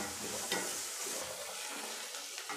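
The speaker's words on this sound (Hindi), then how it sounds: "थोड़ा सा हम इसको ब्राउन कर लेंगे अपने प्याज को।" Chopped onions browning in a pan for a mushroom and pea keema, a steady soft sizzle with occasional stirring scrapes, close and continuous with no talk.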